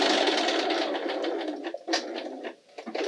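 A sewing machine stitches about an inch along the edge of a boxy zipper pouch. It gives a close, dense mechanical whirr that dips and pauses briefly near the end.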